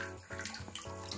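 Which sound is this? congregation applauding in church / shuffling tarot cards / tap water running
tap water running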